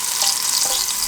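Shallots frying in hot oil in a pan for fish curry, a loud steady sizzle and crackle close up, with no voices.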